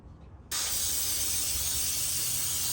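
Brake cleaner sprayed onto a shop rag while servicing the oil filter housing of a 2012-2017 Jeep Wrangler: a loud, steady aerosol hiss that starts abruptly after a quiet moment and continues unbroken, close up.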